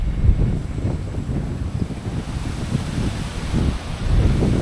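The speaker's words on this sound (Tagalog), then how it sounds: "Sa lakas ng hangin." Strong, gusting wind from Typhoon Kristine sweeps across farmland with toppled guava and banana trees, roaring steadily and loudly close to the microphone with surging buffets and no talking.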